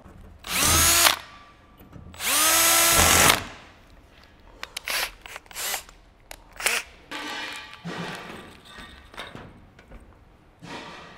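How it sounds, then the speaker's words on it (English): A power drill whirs loudly in two sustained bursts while drilling holes to install Dzus rails, followed by lighter clattering and knocks as parts are handled nearby. "feels good to be done drilling those."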